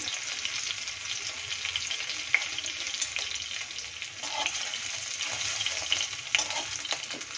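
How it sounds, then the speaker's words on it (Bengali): Ginger and green chilli frying in hot oil, a steady bright sizzle with small pops and a few stirring clicks, close and continuous with no voices. "মশলাটা একটু ভাজা ভাজা হয়ে এসেছে।"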